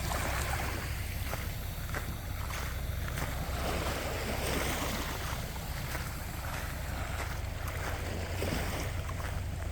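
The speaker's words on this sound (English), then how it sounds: "There's nothing like listening to the ocean splash up against the beach." Ocean waves splash on a beach at low tide at night, a steady, dense wash of surf with a constant low rumble and no voices.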